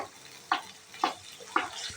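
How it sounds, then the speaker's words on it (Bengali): Ginger and garlic frying in oil for a curry, a soft sizzle under three sharp, evenly spaced stirring scrapes, close and quiet with no talk. "তাই আমি সব তরকারি আদা রসুনটা একটু তেলে ভেজে দিই।"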